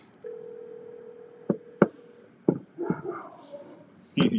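A phone line during a call, with a steady tone followed by several sharp clicks and short electronic bursts, heard faint and close with no speech over it.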